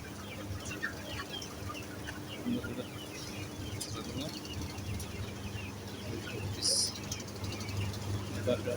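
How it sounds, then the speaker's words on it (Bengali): Chickens cluck and squawk in a noisy flock, overlapping calls scattered through the clip, with a person talking over them. "এই যে দেখেন মুরগিগুলো সব কলরে সব কেঁচুমেচুর করতেছে"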